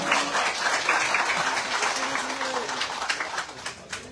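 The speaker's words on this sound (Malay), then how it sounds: "Beri tepukan kepada kita semua." Steady applause from a crowd at an evening political talk event in Karambunai, Sabah, dense clapping sustained throughout with a few brief voices rising under it.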